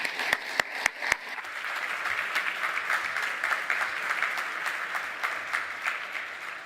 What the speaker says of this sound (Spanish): dar la bienvenida con un fuerte aplauso a la señora Valerie Lorena